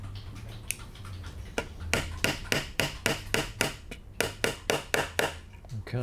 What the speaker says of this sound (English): So I use this sort of hammer effect.